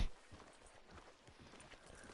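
Horse hooves in the game Red Dead Redemption 2, a steady clip-clop of a horse walking on a street, moderately close and fairly quiet, with a sharper thud at the start.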